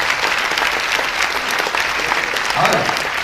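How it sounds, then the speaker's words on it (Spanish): Audience applause fills a live comedy stand-up show in Peru, dense steady clapping from a crowd throughout, with faint voices mixed in underneath. "Un fuerte aplauso a todos ellos"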